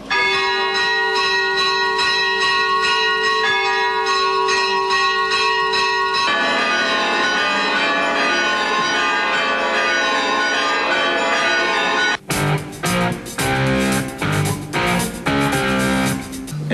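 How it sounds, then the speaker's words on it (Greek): Loud church bells ringing continuously, overlapping metallic tones in a full peal, then a louder, busier clanging stretch toward the end. "για να σημάνει οι καμπάνες"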